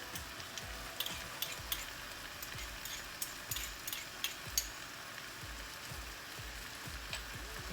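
Minced garlic sizzling in a pan for Chinese pepper steak, a steady soft frying hiss with scattered faint pops and light ticks throughout, close but quiet.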